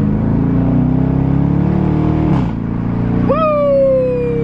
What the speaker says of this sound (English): I'm gonna get on the highway here and give her a nice pull onto to the freeway.